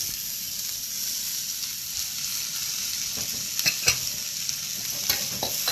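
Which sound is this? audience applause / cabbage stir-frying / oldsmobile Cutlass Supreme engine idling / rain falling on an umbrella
cabbage stir-frying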